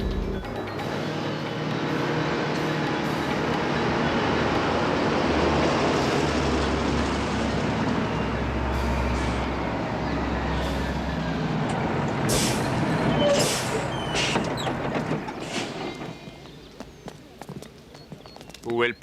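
A bus idles with a low engine rumble and a hiss of air brakes on a street, while people talk over it throughout.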